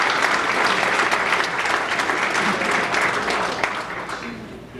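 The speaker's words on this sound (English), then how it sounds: "So if we give all these people a round of applause." Sustained applause from an audience at a State of the City address, dense steady clapping filling the whole stretch with a faint murmur of voices underneath.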